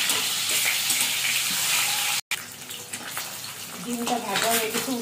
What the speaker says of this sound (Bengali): ডিমটা একটু লাল লাল করে ভেজে নিচ্ছি।